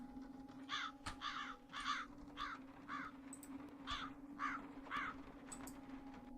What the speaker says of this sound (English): Can I look at the crows with this thing on?